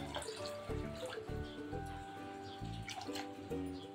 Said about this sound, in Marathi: डाळ एका टोपामध्ये काढून घेतली आहे, याच्यामध्ये पाणी घालून घेते।